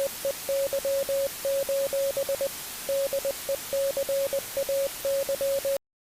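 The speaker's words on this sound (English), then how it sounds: "It's 6 seconds long and only beeping can be heard." Morse code beeps in a single steady tone sound out as short and long pulses in uneven groups over a constant hiss of static, then cut off abruptly into silence at the very end.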